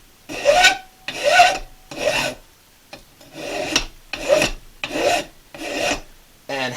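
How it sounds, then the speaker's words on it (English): A hand file rasping across soft steel from an old trap spring held in a vise, eight rhythmic scraping strokes with brief pauses between them, close and clear with no talking. "you just remove the metal that you don't want by filing. And you're going to file a little bit."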